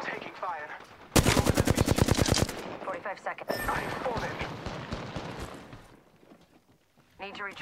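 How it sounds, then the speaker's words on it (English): Rapid bursts of automatic gunfire in the Apex Legends battle royale shooter, one sustained loud volley followed by scattered shots and combat effects, with game voice lines in between. "I'm taking fire."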